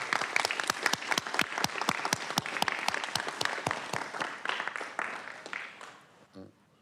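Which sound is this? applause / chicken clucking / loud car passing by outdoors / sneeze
applause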